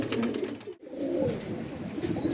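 Andhra pigeons coo softly and continuously at close range, with a brief dip near the middle before the low, rolling calls resume.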